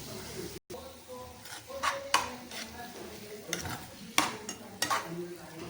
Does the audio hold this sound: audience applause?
no